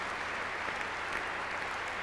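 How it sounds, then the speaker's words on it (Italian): Steady, continuous applause from a large opera-house audience greets the soprano singing Desdemona in Verdi's Otello, a dense even clapping wash with no voices over it. "Grandi applausi per Desdemona che sta uscendo in questo momento"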